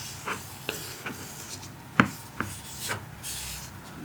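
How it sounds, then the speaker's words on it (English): A small watercolor paint palette is rubbed and scraped clean in a series of close, crisp scratchy strokes. The strokes come at irregular intervals and are fairly quiet, with no talking. "I think I will need to clean my little palette first"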